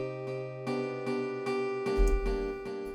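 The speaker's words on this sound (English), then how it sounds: "delay the sound and add more behind it. So it sounds like this." A programmed FL Studio beat run through a delay effect: repeating harmonic synth chords with echoed tails stacking behind each hit, a deep bass thump entering near the end, loud and close with no talking.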